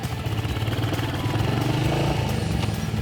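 A motorcycle rolling through city streets in first gear, its engine chugging with a steady, close, mid-pitched drone and slight rise, no talking.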